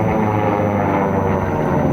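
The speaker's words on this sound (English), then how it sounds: "he's doing a great job of holding off those two composite airplanes" Sport-class propeller racing airplanes, including composite Glasair and Lancair types, flying past at the SkyFiesta air race: a loud, continuous engine and propeller drone, close by, with no talking.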